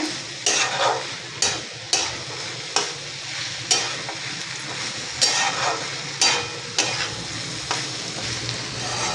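A vegetable stir-fried with crushed raw peanuts over high flame, loud steady sizzling punctuated by about ten regular scraping stirs of a spatula against the pan, close and without speech.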